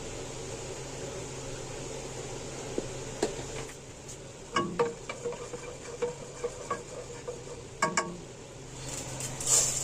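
Ghee topped with two spoons of vegetable oil heating in a cooking pot, a faint steady low sizzle with scattered clinks and taps of a spoon against the pot, fairly quiet and close.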